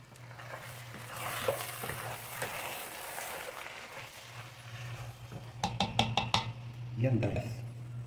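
Mung beans sautéed in a pan for ginisang munggo, a soft steady sizzle with stirring scrapes and a few sharp clinks of a utensil against the pan near the end; a person talks over it at times.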